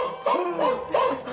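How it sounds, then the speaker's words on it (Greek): Small dog barking indoors, two or three short yappy barks close by in quick succession. "Είδες το σκυλάκι μου, μωρέ, καυγίζει το γλυκό μου, Αζόρ."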